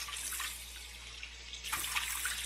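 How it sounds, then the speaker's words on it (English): Hot water runs steadily from a tap into a sink to make a small bath for soaking vinyl boat handles, a continuous close hiss and splash with a brief change in flow partway through. "make a little bath for it here in the sink. I'm going to use some hot water."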